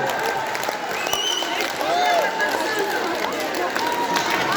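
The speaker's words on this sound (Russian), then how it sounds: "бурные аплодисменты этим замечательным ребятам с Стадовска" Dense applause from a crowd mixed with cheering and whistles, continuous and lively throughout.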